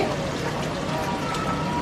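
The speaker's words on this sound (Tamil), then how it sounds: "கொஞ்சம் லேசாக சுற்றி கொஞ்சம் தண்ணி அப்படியே ஊற்றிட்டு" Water poured into a cooking pot over a low flame while making a vegetarian soy mutton kuzhambu; a steady, close pouring and splashing sound fills the short moment, with no talk.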